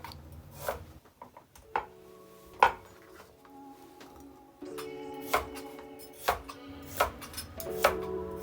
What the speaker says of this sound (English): Cut some carrots.